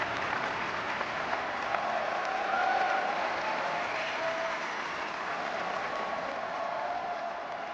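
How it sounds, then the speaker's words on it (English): A large crowd at Star Wars Celebration cheers and applauds steadily, a dense continuous roar of clapping and voices that holds its level throughout. "Hearing their cheer"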